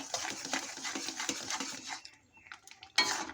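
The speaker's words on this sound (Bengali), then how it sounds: "আমি এইভাবে ডালটাকে ঘুটে নেব।" Boiled mung dal being mashed in a pot with a utensil, giving a steady run of soft, wet scraping and clinking strokes close by, then a short pause and a final burst of stirring.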